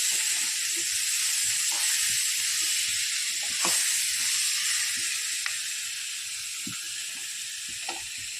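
Okra fries in a pan with a loud, continuous sizzling hiss. Faint pops and crackles sound through it from start to finish.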